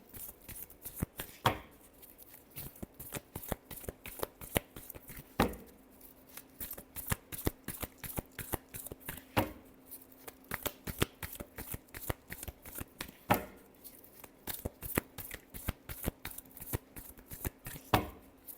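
Tarot cards are shuffled by hand in a long series of crisp, rapid riffling bursts, close and quiet, with regular sharper slaps between rounds.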